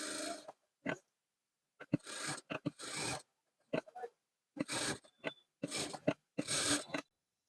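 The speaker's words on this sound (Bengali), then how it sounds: "এই সাইড দিয়ে আমরা কিন্তু সেলাই করে গলাটা লাগিয়ে নিব" Sewing machine stitching a kameez neckline, close and quiet mechanical whirring in short separate bursts of rapid stitching with silent pauses between them, and no speech.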